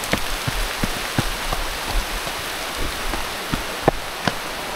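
Heavy rain falling outdoors, a dense steady hiss with scattered louder drops tapping close by, continuous throughout with no talk.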